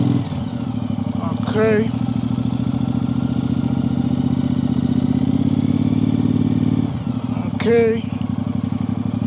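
A Triumph Speedmaster motorcycle engine runs steadily at low revs with a deep continuous rumble during slow U-turn practice with clutch and throttle, then drops off briefly near the end; a person speaks briefly over it.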